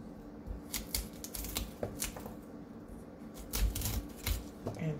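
A knife cuts the leaves away from a cauliflower, giving a run of short, crisp snapping and slicing clicks at an uneven pace, close by and moderately loud, with no speech.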